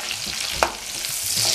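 Garlic and onion sizzle in hot oil in a pan for vegetable chow mein, a steady frying hiss with a small stirring clatter midway.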